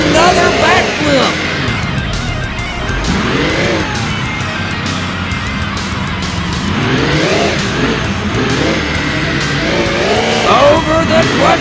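Monster truck engines from a BeamNG Drive Monster Jam freestyle run, with Max D doing backflips over crushed cars. Loud engine revs rise and fall under steady commentary, with tire squeals mixed in.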